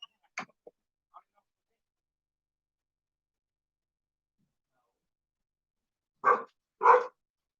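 A dog named Lucy gives a couple of sharp barks close by, with faint short noises early on and long quiet stretches between.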